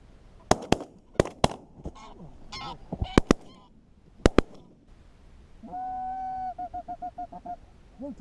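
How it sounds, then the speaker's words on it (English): Geese honking during an inland goose hunt, with several sharp, loud gunshots and scattered calls followed by a steady run of honks, mid-distance. "he was straight back on the trailing geese and even took one of those down"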